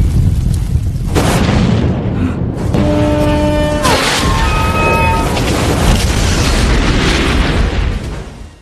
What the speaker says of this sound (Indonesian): peledak rakitan Zack meledak, membuat mereka pun terpental